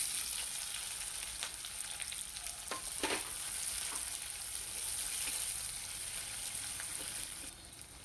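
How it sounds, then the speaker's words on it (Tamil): Finely chopped onions fry in hot oil with broken dried red chillies, a continuous close sizzle and crackle running unbroken for several seconds, with a few faint clinks and no talking. "இப்போ வெங்காயம் நல்லா ஃப்ரை ஆகிடுச்சு"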